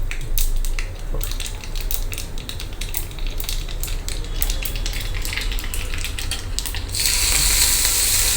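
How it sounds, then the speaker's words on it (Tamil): Mustard seeds and a single dried red chilli crackle and fry in hot coconut oil, with dense popping and sizzling held steady throughout and a brighter hiss surging near the end. "தேங்காய் எண்ணெய் நல்லா காஞ்செடுத்து கடுகு, ஒரே ஒரு வரமிளகா"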